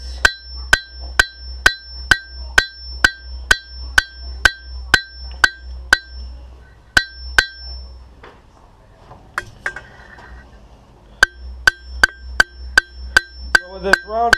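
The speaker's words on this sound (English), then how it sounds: "I'm going to switch over to a different hammer that has a rounding face" A blacksmith hammers metal with a rounding-face hammer: loud, ringing strikes at a steady, quick rhythm, then a brief pause filled with softer shuffling before the regular blows resume.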